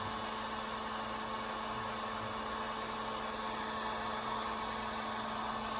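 A heat gun blows with a steady, even whooshing hum while warming powder paint on a fishing jighead, constant and moderately close with no other sounds.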